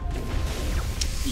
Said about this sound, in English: Allow me to blow up this container.